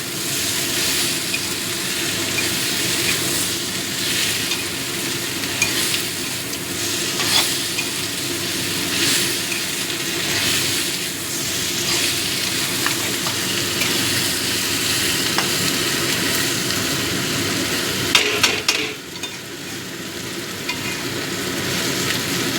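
Fried dried fish being stirred into a sizzling pan of onion dopiaza, a steady close frying hiss with continuous scraping and clattering stirs throughout.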